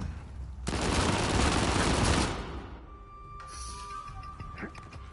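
A burst of blind gunfire in an Uncharted 4 multiplayer match, a dense rattling volley lasting about a second and a half, followed by quieter scattered game sounds.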